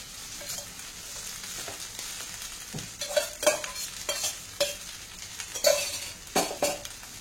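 A spoon stirs freshly cooked rice into mint masala in a pan, giving soft scraping sweeps and sharp metallic clinks against the pan over a low sizzle.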